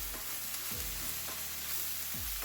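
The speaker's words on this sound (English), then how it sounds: "So I'm just going to saute it until it's all cooked" Taco meat sautés in a pan with a steady, close sizzle and a few soft scrapes from the stirring utensil over the constant frying hiss; no one speaks.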